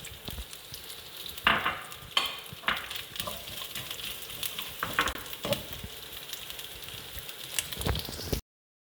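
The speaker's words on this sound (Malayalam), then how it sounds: "ഇതിലേക്ക് നമുക്ക് ആദ്യം തേങ്ങാക്കൊത്തിടാം." Coconut pieces fry in hot coconut oil for a beef coconut dry fry, a close crackling sizzle broken by repeated sharp scrapes and clatters of a spoon stirring against the pan.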